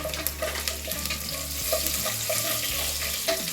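Slit green chillies and curry leaves frying in oil for vangi bath, a steady close sizzle with soft stirring clatter and occasional pops.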